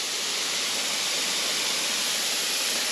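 Water pours steadily down onto garden mulch around plant bases, a continuous broad hiss and splash with no breaks, moderately quiet and close.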